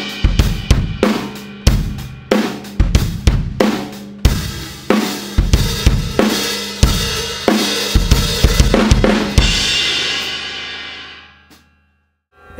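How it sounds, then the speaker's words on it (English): An acoustic drum kit plays a driving groove, with punchy kick and snare hits in a steady rhythm and the hi-hats opened up toward the end, building into a washy cymbal swell that rings out and fades. "if you're on the hi-hats, try open them up towards the end of the section"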